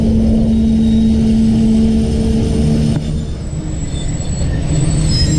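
Tezgam passenger train rolling into Chaklala railway station, heard from inside a carriage as a loud, steady rumble of wheels and running gear with a sustained whine that fades partway through, leaving lower clatter.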